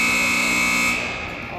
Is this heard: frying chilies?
no